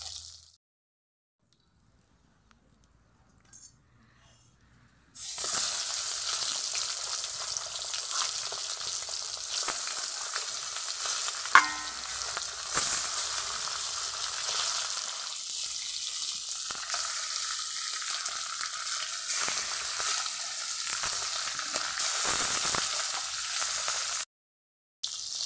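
Fish frying in oil gives a loud, even sizzle and crackle with faint stirring. It starts abruptly after a few seconds of near silence, runs close and steady, and cuts off near the end.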